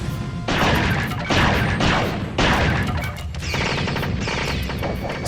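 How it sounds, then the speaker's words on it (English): Skeleton bodies exploding in the Skeleton Warriors video game, a loud, rapid barrage of crackling bursts in dense repeated volleys, like fireworks or machine-gun fire, with no voices. "the constant drone of exploding skeleton bodies quickly goes from, yay, rewarding fireworks sound"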